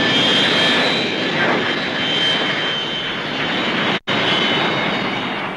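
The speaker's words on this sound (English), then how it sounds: "The use of reverse thrust enables it to operate from quite small airfields." A de Havilland Comet 4 jet airliner roars with reverse thrust at an air show, loud and sustained, with a broad rushing noise and whining tones, and a brief dropout near the end.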